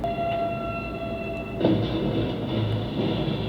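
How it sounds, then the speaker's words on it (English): A speeding train approaches a truck that is carrying a speedboat and is stuck on the tracks, with a loud, steady rail rumble and a sustained horn tone that shifts midway. "A speeding train was fast approaching."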